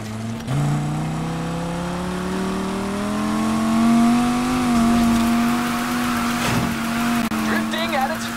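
A 2017 Audi S5 Sportback drifting in a racing game, its engine note holding a loud, steady drone that swells and wavers through the slide, with brief shifts in pitch near the end and a voice talking over it.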